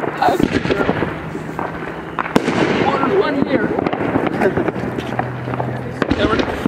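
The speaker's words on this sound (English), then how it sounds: "What do you think of all these fireworks?" Crackling, popping bursts of fireworks go off repeatedly in the distance, with people talking and a low hum underneath.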